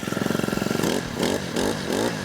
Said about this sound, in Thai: เจ้าตัว Honda เขาใช้รหัสเครื่องยนต์ GX 25 นะครับเดี๋ยวเรามาฟังเสียงกัน